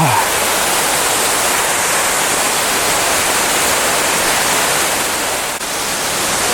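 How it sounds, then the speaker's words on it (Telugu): Banyumala waterfalls in Bali, a steady, loud roar of falling water that fills the whole clip without pause, close and unbroken. "ఇంకా దగ్గరికి వెళ్తున్నాం వాటర్ ఫాల్స్ దగ్గరికి"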